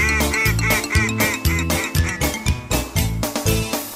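Rhythmic, bouncy music with repeated honking-like calls woven in, sounding like geese imitated in a children's song, loud and steady throughout.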